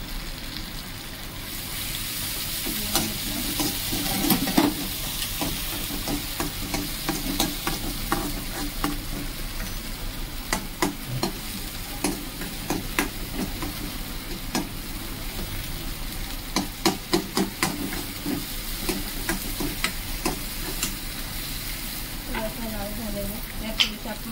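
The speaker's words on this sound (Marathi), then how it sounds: "तेल कांदा थोडंसं परतून घ्यायचं. त्याबरोबर आपल्याला थोडंसं कढीपत्ता पण टाकायचं आहे." Onion and curry leaves fry in hot oil in a pan, with a continuous close sizzle and scraping stirs recurring throughout, with faint talk at times.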